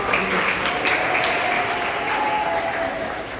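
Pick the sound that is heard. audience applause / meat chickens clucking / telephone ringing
audience applause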